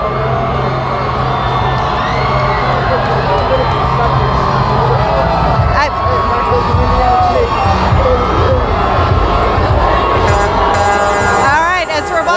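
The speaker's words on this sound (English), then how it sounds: "This crowd is just electric, going crazy." A huge crowd roars and cheers without letup at the New England Patriots' Super Bowl LIII victory parade as Tom Brady rolls past, with whoops and shouts layered over a dense, loud wall of voices and a commentator talking over it.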